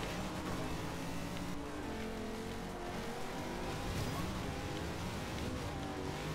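Race cars in the Forza Horizon 2 video game on Xbox One: a continuous engine roar throughout, with revving and shifting tones, fairly loud and steady, with no speech.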